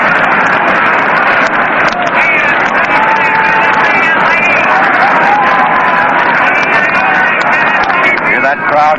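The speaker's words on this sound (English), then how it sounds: "Hear that crowd still murmuring over that play of Bartell." Stadium crowd at a Yankees–Giants World Series Game 6 in a ballpark, a loud continuous murmur and babble of many voices filling the whole stretch, with scattered shouts and chatter rising out of the steady din.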